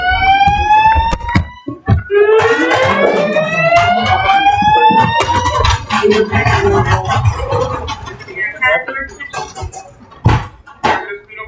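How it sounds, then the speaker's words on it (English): A building fire alarm rings loudly in a lecture hall, repeating tonal sweeps and blasts that continue throughout, with some voices and shuffling underneath. "Fire alarm."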